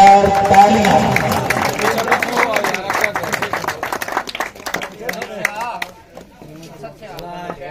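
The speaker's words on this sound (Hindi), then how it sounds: "जी जोरदार तालियां" Crowd applause at a cricket tournament's final ceremony in Punjab, dense clapping under an announcer's amplified voice, thinning into scattered claps near the end.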